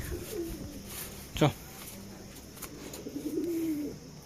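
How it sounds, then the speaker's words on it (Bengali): Pigeons in a crowded coop give soft, low cooing, a short burst near the start and a longer call toward the end, faint against a steady background with a brief louder sound in between. "খোপের ভিতরে প্রচুর পায়রা হয়ে গেছে"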